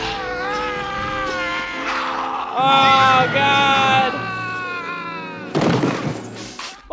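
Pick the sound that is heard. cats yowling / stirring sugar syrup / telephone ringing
cats yowling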